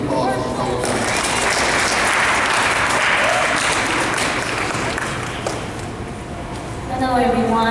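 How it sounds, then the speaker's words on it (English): Loud, steady applause from an audience after a song at a community event continues for several seconds, tapering slightly before a voice starts speaking at the end. "So can you please give him a applause for Bo Johnson."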